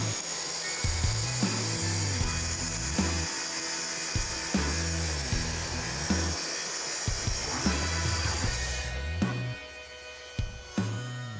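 A track saw cuts straight through 1/2-inch plywood, a steady loud whining buzz of blade in wood running for about nine seconds before spinning down, followed by a few small clicks.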